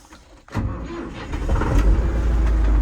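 A Renault Claas Ceres 340X tractor engine cranks and catches, then settles into a loud, low, rumbling idle that grows steadily fuller.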